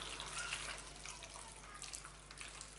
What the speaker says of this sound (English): Add hot water. I always add hot boiling water.